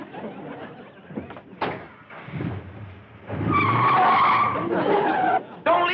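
A car starts off and drives away, engine rising with a loud tire-skidding squeal in the latter half, following scattered bumps and knocks.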